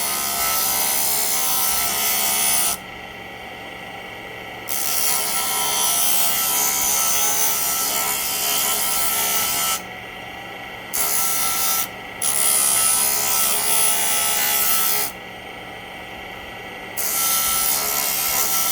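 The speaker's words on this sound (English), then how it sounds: "I go to my jewel tool and I start to grind and shape." A handheld rotary jewelry tool grinds and shapes a metal spoon ring, a loud steady whirring rasp running in long stretches broken by brief pauses where the tool lifts off.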